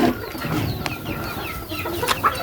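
Hens pecking at eggshells in a backyard flock cluck and squawk in short bursts, several birds close by with sharp calls rising over a busy, scratchy background.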